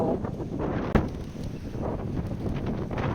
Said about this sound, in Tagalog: Hindi maririnig ang boses ko kasi sobrang lakas ng hangin